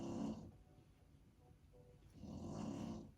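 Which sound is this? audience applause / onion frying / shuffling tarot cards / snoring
snoring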